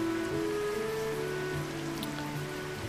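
Rain in the video game Kitaria Fables, a constant close hiss of falling drops with faint patter, blended with sustained background music notes, unbroken and without any voices.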